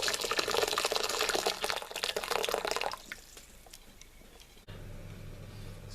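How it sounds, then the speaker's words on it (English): Boiling hot water poured straight into a pot for a steamed suet pudding, a loud gushing splash for about three seconds, then quieter trickling and a low simmering hum. "here's some nice hot water that I've got here, boiling hot water. I'm going to put that straight in."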